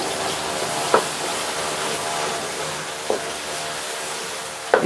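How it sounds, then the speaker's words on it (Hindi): Crushed ginger and garlic frying lightly over low-medium heat, giving a steady soft sizzle throughout with a few brief stirring clicks. "इसको हल्का सा फ्राई करेंगे।"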